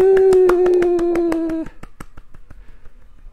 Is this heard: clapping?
yes